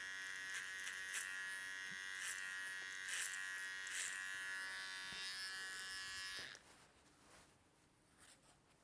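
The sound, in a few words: hair trimmer cutting a fade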